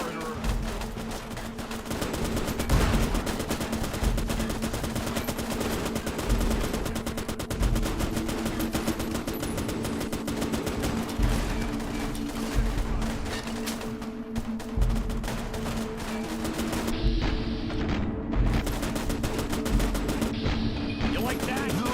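Dense gunfire rattles through a fight in Fallout: New Vegas, with rapid automatic bursts and single shots layered almost without a break. Voices can be heard now and then beneath the shooting.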